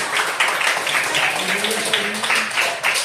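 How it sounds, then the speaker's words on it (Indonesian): Brief applause from a classroom of children during a micro-teaching lesson, a light patter of scattered claps with a few voices mixed in. "Ibu tepuk tangan untuk kita semua"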